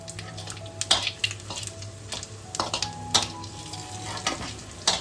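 Bay leaf, dried chilli, cumin and whole garam masala sizzle and crackle in hot oil, with steady frying hiss broken by sharp pops and stirring clatter, close up with no talking.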